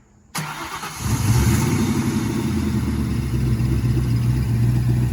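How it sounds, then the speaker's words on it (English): A 2004 Ford Mustang GT with a manual transmission starts by remote start with no one inside: a sudden crank and catch, then a deep, steady V8 idle rumble that carries on to the end. "it does have a remote start, which is interesting on a manual"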